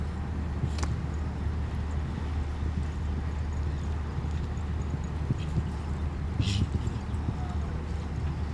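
Hooves of a 10-year-old horse thud across the arena during a CSI two-star show jumping round at Allington, a soft, steady rhythm under an announcer's commentary and the murmur of a crowd.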